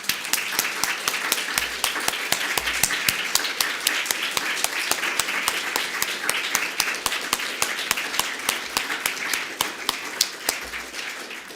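A congregation at a Sunday service applauds poetry, music and art performances, steady dense clapping that carries on evenly for over ten seconds, moderately loud and without talk.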